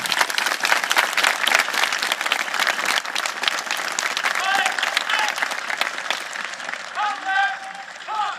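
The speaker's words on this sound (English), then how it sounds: "let's give our awardees a round of applause." A large crowd at an Army graduation ceremony at Fort Knox applauds its awardees with loud, sustained clapping and cheers. A voice speaks over it near the end as the applause eases.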